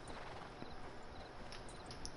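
Horse hooves clip-clop faintly at a walk in Red Dead Redemption 2, a soft, steady patter low under a quiet background hum.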